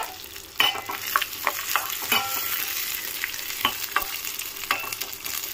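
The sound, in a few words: cashews, raisins and fresh coconut frying in ghee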